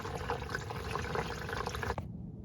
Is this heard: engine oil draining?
yes